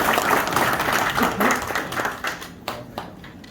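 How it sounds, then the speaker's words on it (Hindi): Hearty audience applause at a motivational talk, dense clapping loud at first, then thinning into scattered individual claps toward the end. "इस बात के लिए आप सब लोगों के लिए जोरदार तालियां"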